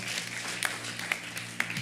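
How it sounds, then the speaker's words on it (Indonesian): A church congregation claps during a Sunday evening worship service, with a few sharper claps standing out over a steady low background murmur and hum. "tepuk tangan buat Allah kita"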